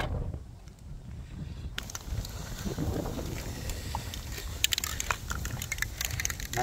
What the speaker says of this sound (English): It's a little windy, all right, but we'll make it work.